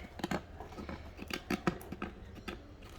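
Tape peeled off the packaging of a Sonic toy, heard as a close series of short crackling rips and tearing bursts in uneven rhythm, fairly quiet with no talking.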